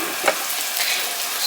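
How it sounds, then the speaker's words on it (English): Onions sautéing in a pan at home, a close, steady loud sizzle with one brief stirring tap near the start, and no voices. "sauteing the onions because I really like onions"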